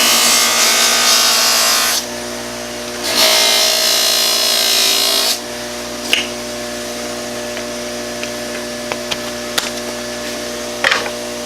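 Buffing wheel on a motor spinning as it is cleaned off ahead of rouge, a bright steady whir in two bursts of about two and three seconds, then a constant motor hum with a few sharp ticks and clicks.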